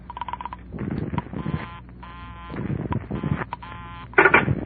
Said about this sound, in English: I held off dialing the last number on my phone until she got an answer.